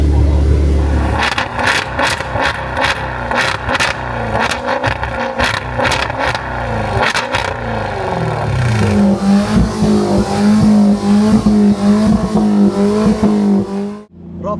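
A sports car's 3.0 Nettuno engine revs hard, with a rapid series of sharp throttle blips giving way to a loud sustained high rev and a sudden cut at the end. A voice is faintly present beneath it.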